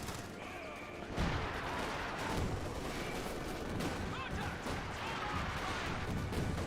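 Priest self-propelled artillery fires in Company of Heroes 2, sending repeated heavy reports through a busy battle soundscape. A sharp shot lands near the one-second mark and further bursts follow, with a faint voice in the background.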